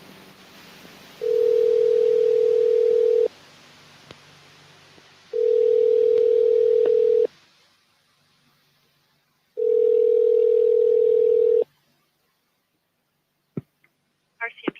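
A telephone dial tone sounds three times in steady, loud, unbroken stretches of about two seconds each, separated by quieter gaps, followed by a few faint clicks at the end.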